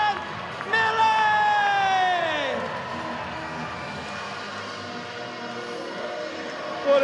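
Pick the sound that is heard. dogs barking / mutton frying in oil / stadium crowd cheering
stadium crowd cheering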